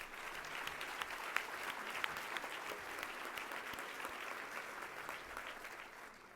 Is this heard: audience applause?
yes